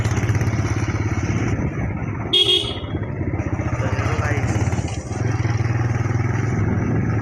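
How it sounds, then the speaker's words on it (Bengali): A motorcycle engine drones steadily and close throughout a ride over a badly broken rough road, with a short rattling jolt partway through. "আমাদের বাইকের সাউন্ডটা শোনা, বাইকের সাউন্ডটা শোনা আমাদের"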